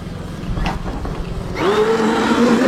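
A Traxxas X-Maxx 8S RC monster truck with a new wheelie bar revs up into a wheelie, its electric motor whining and rising sharply in pitch after a rougher rumbling start, loud and close.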